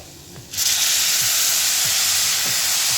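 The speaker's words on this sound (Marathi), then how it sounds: "आता मी याच्यात अर्धा कप दूध टाकते" Half a cup of milk poured into a hot pan while making coconut modak bursts into a loud, steady hissing sizzle that starts abruptly and continues, with faint clinks underneath.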